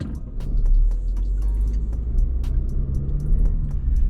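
A car drives along, heard from inside the cabin, with a steady low engine rumble and road noise and faint clicks and knocks as it rolls over bumpy ground.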